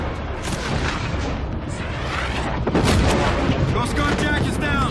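Covering gunfire in the Call of Duty: Infinite Warfare campaign, with loud continuous rattling shots and heavy booms filling the whole stretch, rising in intensity past the midpoint.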